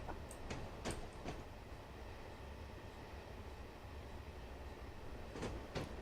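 A BR Class 9F steam locomotive in Train Simulator 2016 rumbles faintly to a stop, with a low steady roll and scattered clicks and knocks from the rails.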